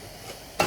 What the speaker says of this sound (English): So the water is boiling over here,